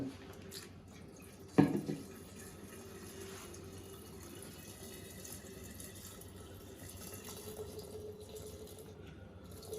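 Water runs steadily into a jar of apple pieces for homemade apple cider vinegar, a soft continuous trickling fill with one brief splash early on, quiet and close throughout.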